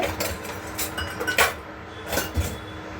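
Food in a pan is stirred with a metal utensil, producing close, uneven scrapes and clinks against the pan, with a low background hum and no talking.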